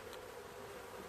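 Honeybees buzzing beneath a wooden hive crown board atop a brood box bait trap with a super, a steady, close, continuous hum with no talking.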